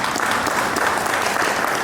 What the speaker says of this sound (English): I want you to give him a big round of applause